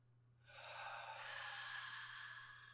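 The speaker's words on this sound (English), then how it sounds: "Now breathe out and listen to the sound." One long, breathy exhale pushes out against a pillow resting on the belly, close and steady for about two seconds before fading, with no talk.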